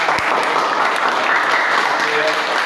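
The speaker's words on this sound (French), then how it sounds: "Applaudissez-la." A crowd applauds steadily, a dense wash of clapping that stays even and fairly loud throughout, with a bit of voice mixed in.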